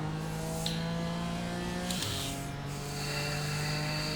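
A race car in iRacing, an IMSA Michelin Pilot Challenge machine at Daytona International Speedway, drones at a steady engine pitch, then drops abruptly as it downshifts to second gear, the engine note resettling and holding under faint tire noise.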